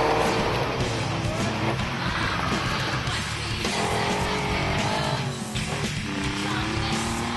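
Rally cars with race-tuned engines race flat out on a fast night stage, their engines roaring continuously and loudly as they pass, with a voice talking over the noise.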